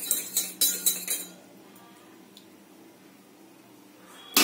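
A spoon clinks against the cup while stirring honey into a hot herbal decoction: four quick, bright taps in the first second, then quiet room tone and one faint click at the end.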